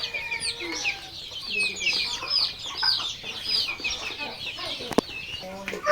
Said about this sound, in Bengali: এখানে রয়েছে লেয়ার মুরগি